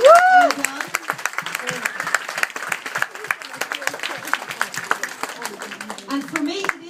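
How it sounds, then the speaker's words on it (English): Audience applause for a winner who named a sculpture, a steady patter of many hands clapping at moderate distance, with a voice audible at the start and end. "So can you give a round of applause to the winner who named the sculpture?"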